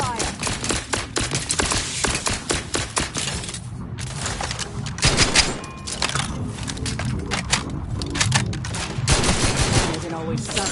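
Rapid bursts of automatic gunfire from The Outer Worlds 2 crackle in dense volleys across a busy combat scene, loud and near, with game speech and effects mixed underneath.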